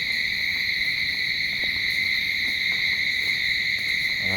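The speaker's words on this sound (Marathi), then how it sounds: "आवाज पण एकदम किलबिल, एकदम खाडी साईड आहे" Insects chirp in a steady, loud, continuous high-pitched drone near a creek at night, several layered trilling bands running without pause throughout.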